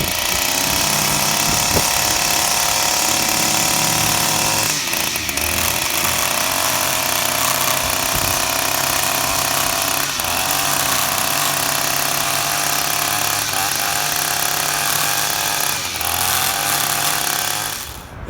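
A power tool clears dirt and weeds out of cracks in asphalt, a loud, steady, unbroken roar that runs close by and alone for the whole stretch.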